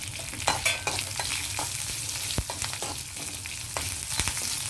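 Dried red chillies and curry leaves frying in oil in a pan, a continuous close sizzle broken by scattered sharp clicks and scrapes of stirring, with no voices.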